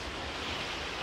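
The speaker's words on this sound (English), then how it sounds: "We're about to cross the river with the car!" A car fording a river on the Mexico–United States border, with a steady broadband rush of churning, splashing water that stays loud and close for the whole moment, no voices.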